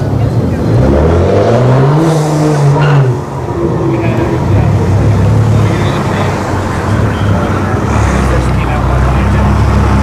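A BMW 335i makes a solo run down a drag strip at a test-and-tune session, its engine loud and close, revving and rising in pitch as it pulls away, with a steady roar that continues to the end.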